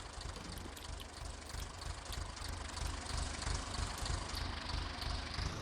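Tractor engines idle on a Polish farm, a steady low diesel rumble with a rhythmic knocking pulse, close and continuous with no talking.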